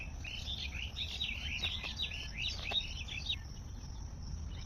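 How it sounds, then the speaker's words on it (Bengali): Morning birds chirping and twittering in rapid, overlapping calls near a tree where ripe jackfruit has fallen, steady and moderately close, with a faint insect-like buzz underneath and no talking. "আর তোমাদেরকে শোনালাম সকালবেলা পাখির কিচিরমিচির ডাক"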